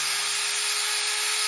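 A 600 watt electric drill runs steadily, a continuous loud high-pitched whine with a constant motor hum, alone without talk.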